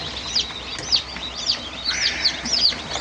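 Newly hatched chicks in an incubator peep continuously, with high, repeated rising-and-falling chirps from several birds over a faint steady hum.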